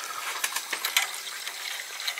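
Water running into a gas boiler heating system from the feed, a soft steady rushing flow with faint trickling, fairly quiet and close, with no talk over it.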